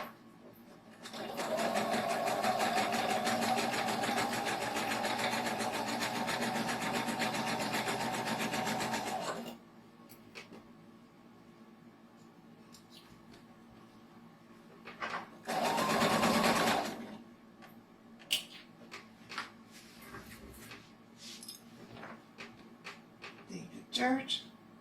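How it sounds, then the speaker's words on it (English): Sewing machine stitching a shoulder bag, a fast steady mechanical whir for several seconds, then a second short burst, followed by quiet handling clicks and taps of fabric and tools. "place it on top of the markings, and stitch on the bottom line."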